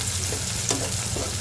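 Chopped onion and garlic frying in oil, a bright continuous sizzle with a light clink of stirring partway through.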